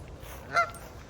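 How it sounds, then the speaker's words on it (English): A single short honk from a goose in a small family of geese on a canal, fairly close and clear, rising briefly above a quiet, steady outdoor background. "Goes little geese, a little family of geese."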